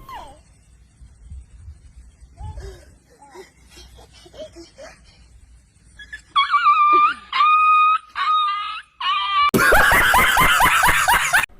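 A dog bitten back by a child yelps and whines in a series of sharp, loud cries, mixed with human screaming and laughter.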